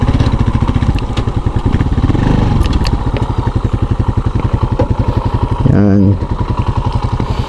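A Rusi Macho TC 150 motorcycle idles close and loud at a stop near Caliraya Lake, its steady rapid engine pulse continuing throughout with a brief shifting note near the end and a single short spoken word.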